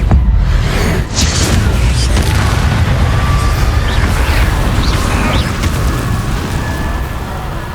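A Confringo spell blast in the video game Hogwarts Legacy: a loud, booming explosive burst followed by a sustained rumbling roar that slowly fades over several seconds, no talking.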